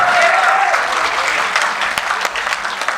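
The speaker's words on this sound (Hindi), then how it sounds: "ताली वाली बजाओ जरा हाथ खोल के।" Audience applause at a college poetry recital, a dense burst of clapping that starts loud and slowly thins out over a few seconds.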